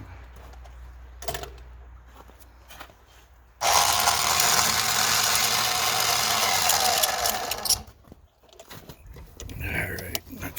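Battery-powered DIY portable winch built around a Milwaukee M18 tool, running loud and steady for about four seconds after quieter handling noises, then cutting off abruptly.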